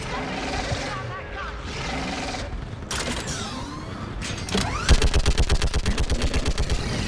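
A mounted gun in the shooter Mass Effect 3 opens up in a fast rhythmic burst of loud, close shots after a stretch of creaking machinery and scattered combat noise.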